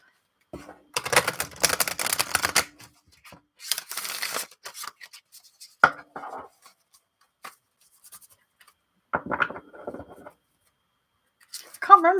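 Playing cards riffle and flutter in quick bursts, with soft shuffling and tapping between them and brief murmured talk.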